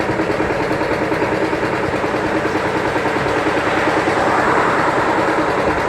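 A vehicle's engine runs steadily and loudly on the road just ahead of a touring solar bicycle, with a continuous, rumbling low drone throughout and no talking.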